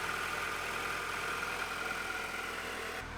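Honda DC2 Integra engine idling steadily while warming up in an engine bay, a continuous even drone heard close, with a slight change in tone right at the end.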